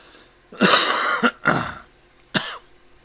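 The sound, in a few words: cough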